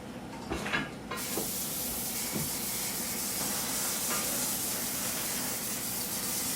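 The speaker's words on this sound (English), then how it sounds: "Okay, sprayed with the vegetable spray." A short hissing burst of vegetable cooking spray onto a baking sheet near the start, then a steady broadband hiss continues in the background, close by.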